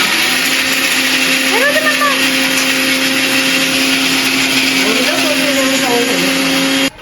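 A mixer grinder motor whirs steadily and loudly throughout, cutting off abruptly at the end, with brief voices rising over it.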